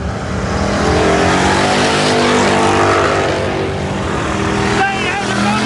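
IMCA hobby stock race cars roar loudly out of turn 4 on a dirt speedway during a heat race, engines droning steadily under an announcer's excited commentary.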